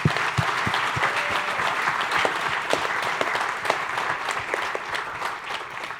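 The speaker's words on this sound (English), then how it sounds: "Let's give them a round of applause." An audience applauds panelists at a Hawaiʻi panel discussion on the blue economy and feeding Hawaiʻi first, a full, sustained round of clapping from a seated crowd that stays strong and even throughout.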